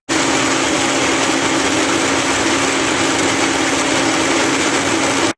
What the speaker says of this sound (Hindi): तो अब इनको मैं ग्राइंड कर लूँगा ताकि जो है मैं इसको मटन पुलाव के लिए यूज़ कर सकूँ।